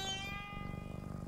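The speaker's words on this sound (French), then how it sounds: "J'entends des ronrons par là." Cartoon cat purring: a soft, steady, pulsing low rumble, faint and close, with sustained tones running above it.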